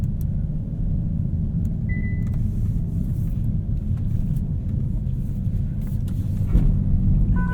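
A 2022 Hyundai Elantra N with a DCT gearbox, driven in N Custom mode, gives a steady low engine drone from inside the cabin, with a few faint beeps.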